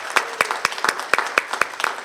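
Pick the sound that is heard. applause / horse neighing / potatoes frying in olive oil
applause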